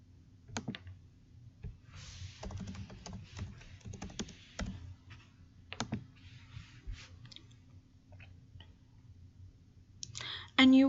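Login credentials are typed on a computer keyboard in close, rapid bursts of clicking keystrokes over a low steady background hum.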